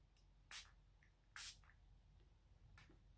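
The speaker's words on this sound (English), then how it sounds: "So let's spray this green water." A perfume bottle sprays an iris fragrance, two short bright hissing bursts close up, with a fainter third spritz a moment later in an otherwise quiet room.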